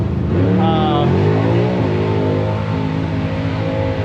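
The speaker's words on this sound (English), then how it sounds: "They're doing like a burnout contest on it, it sounds like." A race car engine revs in a burnout contest at a racetrack, a loud, steady roar whose pitch climbs, wavers and settles, close by, with a voice talking over it.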